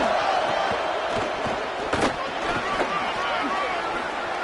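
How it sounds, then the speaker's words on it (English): A stadium crowd roars steadily in the College Football 27 video game, a dense wash of cheering with a few sharp peaks, under a commentator's voice. "This crowd ready to make its presence known."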